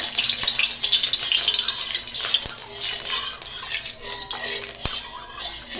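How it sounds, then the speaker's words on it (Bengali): Refined oil poured into a kadai while cooking a vegetarian gathi kochu dish, with a steady liquid hiss and light metallic kitchen clinks running close and continuous. "কড়াইতে দিয়ে দিলাম আমি এখন তেল।"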